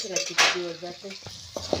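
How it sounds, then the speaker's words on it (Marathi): Cabbage and onion dry sabzi being stirred in a kadhai over a chulha, with a loud scrape and clatter of the spoon against the pan, faint sizzling, and a few softer knocks afterward. "आजी व्यवस्थितपणे हलवून घेता जेणेकरून ती खाली लागली नाही पाहिजे"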